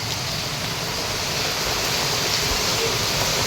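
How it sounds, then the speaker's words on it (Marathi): Heavy rain in Mumbai makes a loud, steady wash of noise with no breaks, close by and without any voices. "आज सकाळपासूनच पाऊस एवढा जोरदार आहे"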